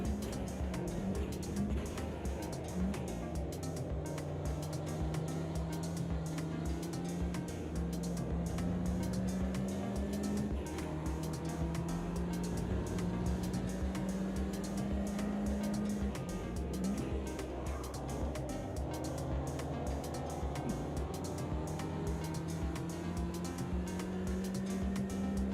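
Race cars in the Automobilista 2 racing game drone with steady engine tones that rise and fall as they run close together through an overtake, a continuous mechanical hum without speech.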